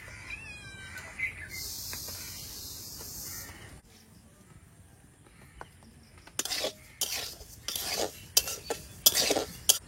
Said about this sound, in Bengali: আজকের আমি একটুখানি হালকা শুকনো খোলায় নেড়ে নেবো।